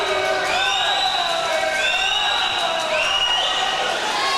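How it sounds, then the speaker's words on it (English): Fans at a college swimming championship cheering and whooping in a big echoing natatorium, a steady loud roar of voices with rising shouts throughout. "Milligan fans cheering him on."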